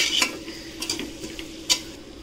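Ground masala being stirred into cooked vegetables in a pot for foxtail millet sambar rice, with a few scattered light clinks and scrapes of a spoon over a faint sizzle.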